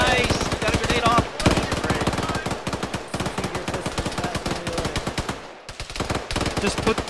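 Rapid automatic rifle and machine-gun fire in the ArmA military shooter during a ShackTac squad firefight, dense close bursts of shots with brief pauses, while players talk over the shooting.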